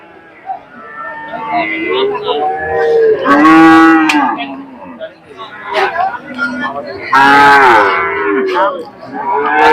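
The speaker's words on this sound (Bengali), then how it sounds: "প্রচুর গরু উঠেছে আপনারা দেখছেন" Cattle at a busy Kalampur cattle market moo loudly and repeatedly up close, two long strong calls standing out among shorter lows, with people talking and crowd babble throughout.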